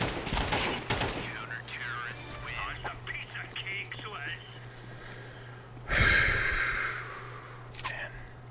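Rapid bursts of gunfire come from a first-person shooter video game, with a dense volley at the start and another loud burst later. A voice talks in between.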